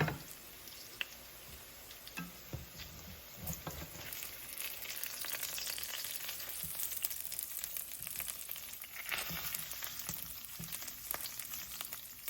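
Salisbury steak patties frying in a skillet, a steady low sizzle and crackle with occasional soft pops and stirring scrapes, faint and continuous throughout with no talk.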